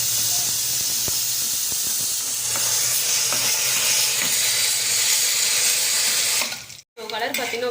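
Dried red chilies fry in hot oil for Pallipalayam chicken, giving a loud, continuous close sizzling hiss that cuts out briefly near the end.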